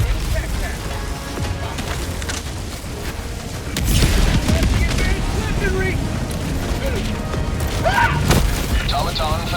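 Explosion destroying an automaton facility in the Helldivers 2 video game, a heavy boom swelling out of busy battle noise with gunfire and mechanical clatter, then a sustained loud rumble.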